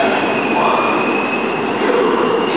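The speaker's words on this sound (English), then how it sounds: "We got an 830 train coming in, an 820 train, an 826 train." A commuter train arrives at 30th Street Station at night, rumbling loudly and steadily nearby, a continuous roar of wheels on rails with a faint high metallic whine.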